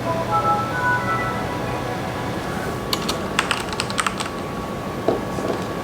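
Keys tapped on a computer keyboard attached to a ten-year-old AMD Athlon X4 640 desktop PC, a short loose burst of close clicks over a low steady hum, with no talking.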